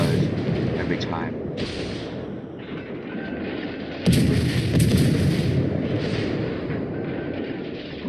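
Ship cannons fire in the naval battle game World of Warships, with loud booming blasts breaking out among a steady engine and sea rumble, including a sharp heavy volley midway, while someone talks over the action.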